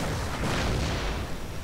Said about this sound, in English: So my artillery's still firing on this foot guard unit.